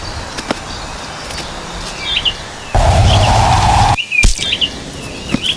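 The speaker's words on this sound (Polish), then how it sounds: "może jakieś z tych ptaków upolować, co ćwierkają" Small wild birds chirp in short, bright bursts near and far over a steady outdoor noise bed, with a loud rustling gust partway through and a brief cut before the chirping resumes.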